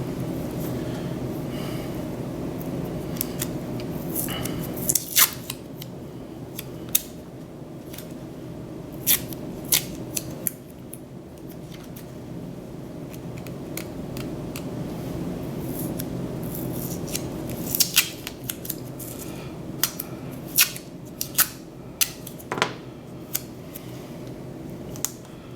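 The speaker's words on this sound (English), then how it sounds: "the other is going to be cut to pieces here" Scissors snip repeatedly through paper being cut into puzzle pieces, a close run of crisp, irregular cuts over a steady low background hum, with no talking.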